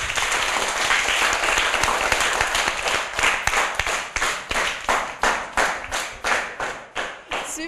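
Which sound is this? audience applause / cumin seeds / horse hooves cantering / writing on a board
audience applause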